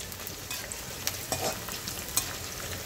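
Onions stirred and frying in a pan for a puffed rice breakfast, a steady soft sizzle with occasional scraping taps of the spoon, close and continuous with no talking.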